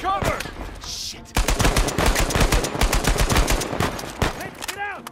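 Heavy gunfire during a firefight in Uncharted 4: A Thief's End, with rapid loud shots hammering in a nearly continuous string for several seconds, then a few trailing bangs.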